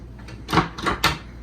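A few quick wooden knocks and clunks from a drawer or cupboard door being opened and shut close by on a Nordhavn 64 yacht, three distinct hits.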